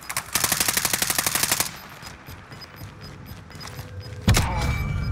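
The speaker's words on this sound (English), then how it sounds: "Running Mac 10, Craig." A MAC-10 submachine gun fires in a video game. A rapid, loud automatic burst rattles for over a second, then after a quieter gap a single sharp shot lands and leaves a lingering ring.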